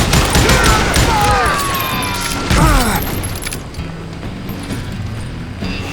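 Gunfire in the Western shooter Call of Juarez: Gunslinger at a camp outside Parachute, Colorado: a dense, loud volley of shots in the opening seconds thins into scattered reports over a noisy outdoor backdrop.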